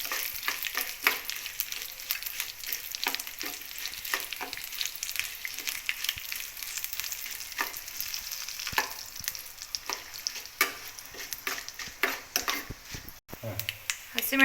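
Dry red chillies dropped into hot oil while tempering lemon rice, a dense crackling sizzle with sharp popping spatters throughout, fairly close and unbroken.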